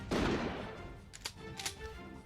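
One loud gunshot in the Code: Realize visual novel on PS Vita cracks out near the start and fades, followed by a few lighter sharp clicks and impacts.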